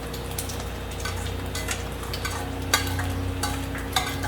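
Pork fat sizzles and crackles steadily in a hot pan, with occasional pops and light stirring scrapes, close up and without talk.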